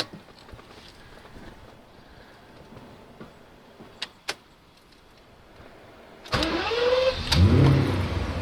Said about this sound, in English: we can start up the car just to show you how easy this is